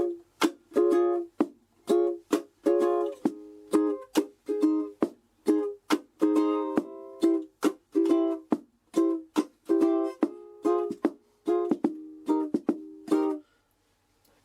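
Ukulele strummed with percussive hits for the chorus of a song: sharp, rhythmic chord strokes and muted slaps in a repeating syncopated pattern, close and clear, with no talking.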